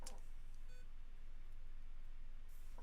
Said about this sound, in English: The fuck is beeping?